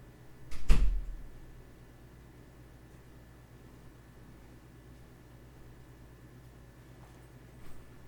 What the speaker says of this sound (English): We'll close the door, Tish.